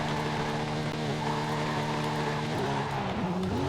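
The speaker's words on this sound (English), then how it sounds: "time to see how this thing goes for drifting." A Porsche 911 GT3 drifting in Forza Horizon 5, tuned with drift suspension and a locked differential, its engine howling steadily at high revs, the pitch wavering and sliding near the end as the car swings through the drift.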